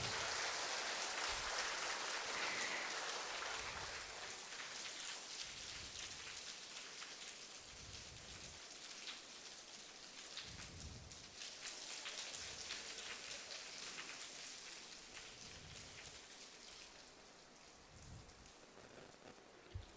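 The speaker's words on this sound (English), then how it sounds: "अभी मूसलाधार। एकदम से एक बादल आ गया।" A sudden heavy downpour of rain hissing steadily on surfaces, dense and continuous with faint low thumps underneath, fairly distant and soft.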